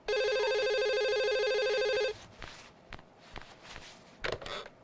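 A telephone rings loudly with a steady electronic tone for about two seconds and then stops, followed by soft rustling and shuffling movements nearby, with no talking.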